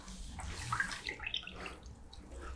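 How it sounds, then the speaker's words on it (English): Drink poured into small shot glasses, a close, soft trickling splash running steadily with a few brighter splashy moments and no talk. "Put it over here so they can hear it pouring."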